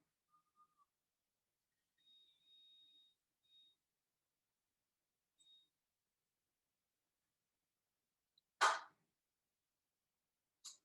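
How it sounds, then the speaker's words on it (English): A few faint, high electronic beeps, some clipped and one drawn out, sound in an otherwise near-silent room. A single sharp, loud knock or click comes near the end. "Sorry about the beeping noises"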